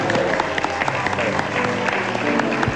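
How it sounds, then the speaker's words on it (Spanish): A television studio audience applauds in a dense, sustained wave of clapping, loud and close throughout. "un gran aplauso para ti"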